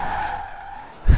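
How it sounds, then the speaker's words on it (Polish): An Aston Martin Vantage in Forza Horizon 4 slides into a drift, its tires giving a sustained high squeal that fades before a low thump at the end. "Czyli wchodzimy sobie w drift."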